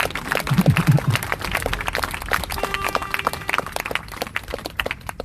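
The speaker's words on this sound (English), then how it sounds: "Y'all can clap for that." At a street protest, a crowd claps in scattered, uneven bursts, some hands sharper and nearer than others, with voices murmuring and calling out underneath.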